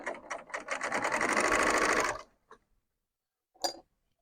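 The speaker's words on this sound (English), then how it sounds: "And then I'm just going to lift the presser foot and sew off." A serger sewing machine running fast through fabric in a steady two-second whir, then stopping, followed by a couple of small clicks and a brief snip-like sound, close by with no talking.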